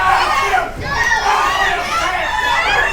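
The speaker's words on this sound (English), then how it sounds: "chanting for him to tap" Wrestling crowd at an ACW Underground Assault show chanting during a crossface submission hold, a dense, steady roar of many voices with shouting tones, loud and sustained throughout.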